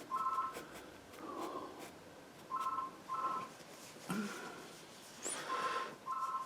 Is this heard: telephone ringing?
yes